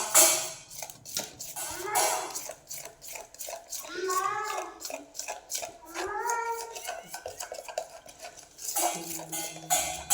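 Batter mixed with a little milk being stirred smoothly in a bowl, making soft repeated scraping and sloshing strokes close by, with someone talking over it.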